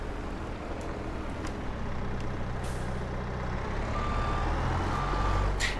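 A heavy lorry towing a trailer reverses in Farming Simulator 22 with a steady low engine rumble throughout. Short hisses of air brakes cut in, and intermittent reversing beeps sound toward the end, with no talking.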